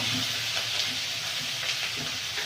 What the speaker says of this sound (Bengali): দিয়ে মশলাটা ভালো করে কষে নেব।